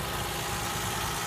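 A 1990 BMW 325i Touring engine idling under the open bonnet, a steady, even hum heard up close with no talking.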